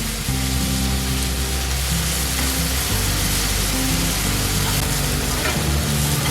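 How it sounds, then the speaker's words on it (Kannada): Tomato fries in oil with Kashmiri red chilli powder and coriander powder for a capsicum gravy, giving an unbroken, fairly loud sizzling hiss with a low steady hum beneath it and no voices. "ಇದೊಂದು 2 ನಿಮಿಷ ಟೊಮ್ಯಾಟೊ ಜೊತೆ ಫ್ರೈ ಮಾಡ್ತೀನಿ"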